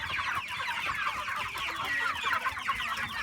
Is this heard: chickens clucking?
yes